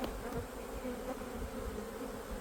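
Honeybees at an open hive being inspected during a spring colony split, a dense steady buzz of many bees close by with no break.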